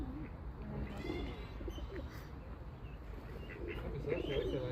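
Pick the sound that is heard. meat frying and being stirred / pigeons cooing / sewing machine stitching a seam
pigeons cooing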